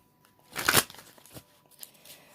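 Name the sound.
tarot cards being shuffled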